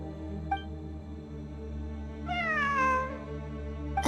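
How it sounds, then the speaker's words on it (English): A cat meows in the video game Genshin Impact: one drawn-out, rising-and-falling meow, clear and fairly close over a steady ambient game hum, with no talking. "It really is a cat."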